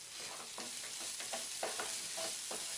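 Egg fried rice with salt is stirred in a hot pan, a steady close sizzle broken by repeated soft scraping strokes of the spoon, with no voices.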